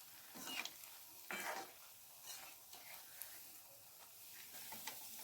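Snacks frying in hot oil, with faint, soft bubbling and several brief louder crackles and stirring scrapes, heard quietly and alone.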